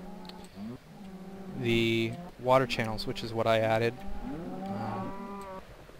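Cows lowing in Minecraft, several drawn-out moos packed close together in a cow elevator with water channels, while someone narrates calmly over them.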